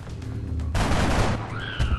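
Gunfire in the turn-based strategy game XCOM: Enemy Unknown, a rapid burst of shots followed by a sharp louder volley and a rising electronic tone, loud and close with no talking.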